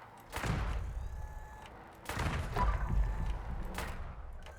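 Gunshots from a Bloodied weapon in Fallout 76: three sharp, loud reports spaced apart, each with a booming low tail, no talk.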